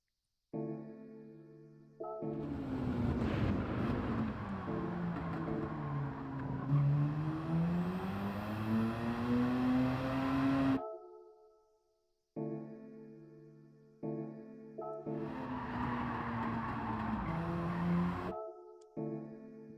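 Race car engine in Gran Turismo 7 roaring under load with falling then rising pitch, cutting off abruptly as the driver lifts and brakes, then revving again in a second loud burst, with no talk.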